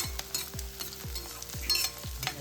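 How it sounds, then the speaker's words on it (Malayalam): Chicken roast, Kerala style, frying with crushed chilli while being stirred: rhythmic spoon scrapes about every half second over a continuous sizzle, close and fairly quiet. "1 ടീസ്പൂണ് ചതച്ച മുളക് ചേർത്തി കൊടുത്ത് ഒരുവിധം മൊരിയുന്നത് വരെ നമുക്കത് നന്നായി ഇളക്കി കൊടുക്കാം"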